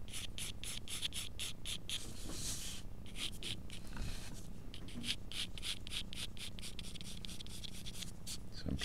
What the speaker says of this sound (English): I'm kind of using some hatch lines just to get it started, and let those lines help make that form right there.